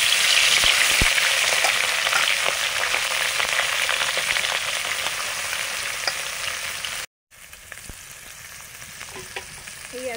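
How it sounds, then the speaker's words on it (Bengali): Small mourola fish frying in hot mustard oil for a spicy aubergine and potato chorchori, a steady loud sizzle with crackles that briefly cuts out and returns quieter. "তেল গরম হয়ে গেছে, মাছগুলো ভেজে নেব।"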